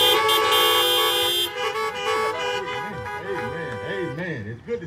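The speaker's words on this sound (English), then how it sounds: "honk your horns one more time" Several car horns honk together at an outdoor drive-in worship service, loud sustained toots at first, then a singing voice with a wavering tune carries over fading horns.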